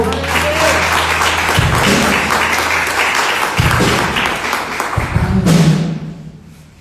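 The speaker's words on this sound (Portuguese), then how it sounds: "Aplauda ao Senhor." A church congregation applauds during a worship service, loud dense clapping close by, steady and then fading out near the end.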